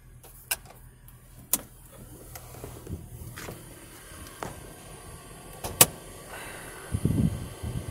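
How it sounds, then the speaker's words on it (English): Power sunroof on a 2019 Toyota RAV4 XLE Hybrid AWD, a faint electric motor whirring inside the quiet cabin with a few sharp clicks and taps, ending in a brief louder mechanical hum. "Power sunroof, tilts out the back, also opens up."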